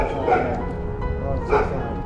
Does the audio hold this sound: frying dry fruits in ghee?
no